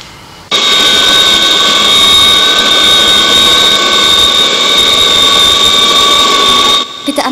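A jet aircraft engine roars in a loud, steady whine with sustained high tones. It starts abruptly and holds for about six seconds before cutting off.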